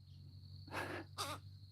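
Wild parrots give two harsh, raucous squawks in quick succession, fairly close and loud over a steady low hum and a faint high whine, with no talking.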